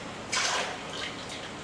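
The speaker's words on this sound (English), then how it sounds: "So I'm gonna dump off the water from the spaghetti squash, allow it to cool faster." Water poured off a spaghetti squash baking tray in a kitchen, a short splashing rush that tapers into a lighter trickle and drips, with no voices.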